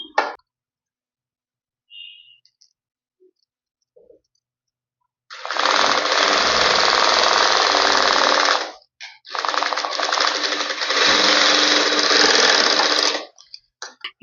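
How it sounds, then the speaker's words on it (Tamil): Sewing machine stitching a straight half-inch seam down trouser fabric, running in two long steady bursts of rapid mechanical stitching separated by a brief pause, with faint clicks and handling noises beforehand. "இந்த சைடில் வந்து இப்படி ஸ்ட்ரைட்டாக கீழே வரைக்கும் ஒரு ஸ்டிச் பண்ணிடுங்க"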